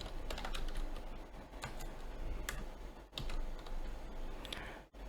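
Keys clatter on a computer keyboard as C# code is typed, a quiet, irregular run of close taps and clicks with brief pauses, steady throughout and without speech.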